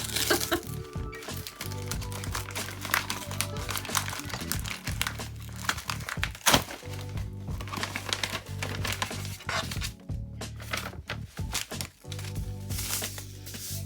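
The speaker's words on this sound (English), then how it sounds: "really wish I didn't have to open these bags" Plastic bags from a Witch Casket subscription box crinkle and crackle up close as they are pulled open, a dense run of sharp rustles and crunches that continues throughout.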